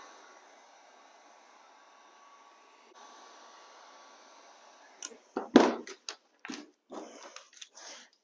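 A heat gun warms a vinyl plank being shaped into a flooring transition, giving a steady blowing hiss for about five seconds before it gives way to a few sharp, irregular bursts of other noise.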